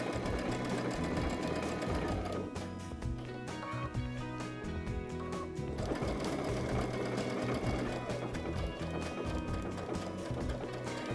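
A sewing machine stitches an appliqué stem, running steadily and loudly through the whole stretch with a dense, even mechanical whir and no voices.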